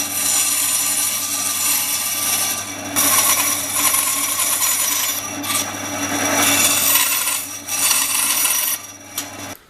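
A notch being cut into wood for a tool wall, with loud rasping strokes of a saw or file scraping back and forth close by in uneven bursts and brief pauses, no speech.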